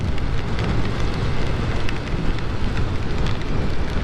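Steady rain roaring around a rider on a Honda Navi motorbike in the Pacific Northwest, a dense continuous wash of noise with no pauses, loud and close.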